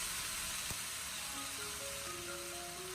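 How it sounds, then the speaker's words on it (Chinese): Ginger shreds stir-fried with tomatoes in a hot wok give a steady, soft sizzle with one sharp click early on and faint tonal ringing later, with no voices. "再把切好的姜丝也倒在锅中， 再次把姜丝炒出香味"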